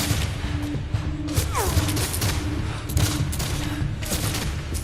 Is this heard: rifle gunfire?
yes